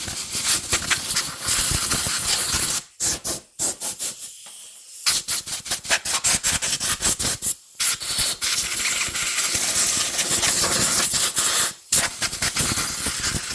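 Compressed air blasts dust off a dirty chainsaw bought at auction, a loud, close, steady hiss that cuts out briefly a few times before resuming.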